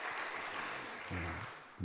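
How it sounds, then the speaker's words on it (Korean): A church congregation applauds during a Sunday worship service, making a steady, dense wash of clapping from many hands that continues through the short moment while a voice briefly speaks over it. "박수 치려면 확실하게 박수 치고 우리 박수 한번 하나님께 영광 드리겠습니다"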